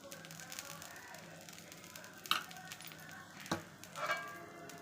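A jonna dosa of sorghum batter sizzles faintly on a hot pan as oil is drizzled around its edges, a soft steady frying hiss broken by a few sharp crackles and clicks.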